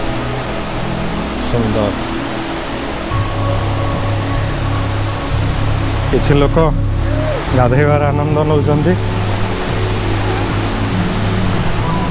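Barabakhara waterfall in Bargarh, Odisha, India, seen from the top, gives a steady broadband rush of falling water throughout, with a voice speaking over it.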